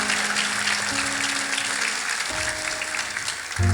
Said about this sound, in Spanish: Fuerte el aplauso para el Señor.